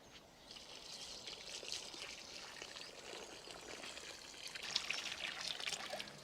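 Liquid plant feed poured into a garden pot, a quiet continuous trickle of liquid that grows slightly louder and splashier toward the end.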